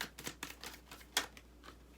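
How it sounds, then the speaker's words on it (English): Oracle cards being shuffled by hand, a faint, quick run of soft riffling taps and flicks close by, with no talk. "I'm trying to shuffle these damn cards."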